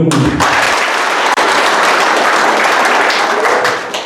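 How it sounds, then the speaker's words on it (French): Guests at a civil wedding ceremony break into loud, close applause for the newly married couple, with dense hand-clapping that starts abruptly, briefly dips, then carries on strongly before easing at the end. "Alors on applaudit le couple."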